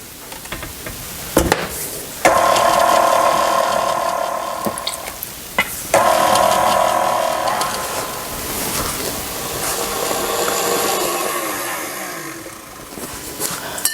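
Electric mixer blending flour mixture and buttermilk into German chocolate cake batter, a steady whirring drone running in two long bursts with a brief pause between, close and fairly loud with no talk.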